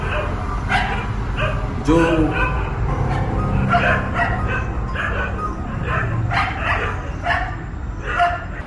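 Several dogs bark and yip in repeated bursts at night near an old fort, with someone talking over them throughout.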